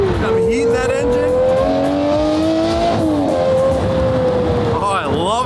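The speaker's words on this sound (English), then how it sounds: "I'm heating that engine." A car engine revs and holds high under a rising, sliding whine, loud and continuous, with a voice and cheers mixed in near the end.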